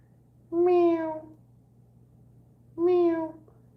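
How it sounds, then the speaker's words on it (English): A cat meows twice, each call loud and drawn out, spaced about two seconds apart over a faint steady hum. "I like to meow. That's all I do is meow"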